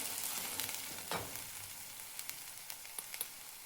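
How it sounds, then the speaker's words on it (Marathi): Whole spices roast in a pan for a rajma masala, with a quiet steady sizzle and a few light scraping stirs and small clicks scattered over it. "छान असा मसाला भाजून घ्यायचा आहे."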